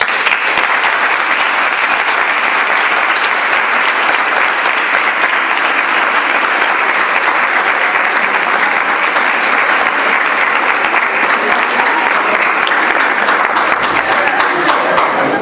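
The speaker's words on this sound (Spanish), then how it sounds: "Pues nada, un fuerte aplauso" Loud, dense applause from an audience closing a talk on online advertising pressure, steady and sustained for about fifteen seconds with no letup.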